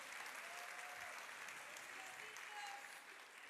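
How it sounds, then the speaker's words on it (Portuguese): An audience at a talk for educators claps in a steady, dense round of applause that continues throughout, fairly faint and without speech over it. "Uma salva de palmas para a mamãe"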